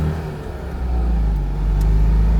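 Citroen 2CV rolling along a French road near Fismes, a steady low engine drone with road rumble, loud and continuous inside the car, with no talking.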